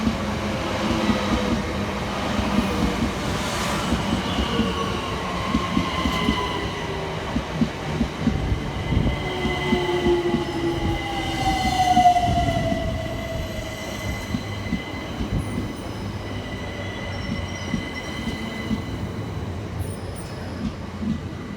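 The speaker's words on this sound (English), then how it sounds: "Arriving next into the station is 376008 and 376031, working the 1410 Southeastern service from Hayes through to London Charing Cross." Two coupled Southeastern class 376 electric trains, units 376008 and 376031, roll into a station, a low rumble of wheels with rhythmic rail clicks and faint squeals and whines drawing nearer over about twenty seconds.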